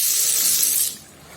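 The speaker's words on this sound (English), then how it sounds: "let's do it once again for the sake of fun" Water streams from a Systellar IR sensor automatic faucet in a steady, loud hiss that cuts off abruptly partway through, leaving quiet.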